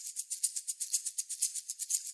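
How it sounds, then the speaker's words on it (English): A shaker in a bass house section of a dubstep track rattles in a quick, even rhythm of about sixteen soft, airy pulses, fairly quiet and heard alone. "On top of that, there is also this shaker."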